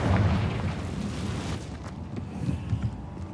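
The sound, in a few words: Confringo blasting spell explosion from the video game Hogwarts Legacy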